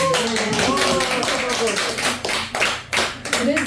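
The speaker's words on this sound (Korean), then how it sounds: "박수 좀 한번 쳐봐요" An audience at a Korean Buddhist dharma talk claps together in a dense, steady patter, loud and close, with a voice talking over it.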